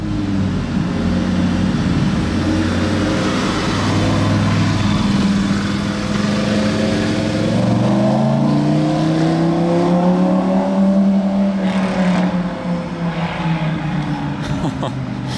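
A Bugatti Mistral engine revs loud and close as it downshifts into second gear on the streets of Monaco during the F1 Grand Prix weekend, the pitch rising and falling continuously over roughly fifteen seconds.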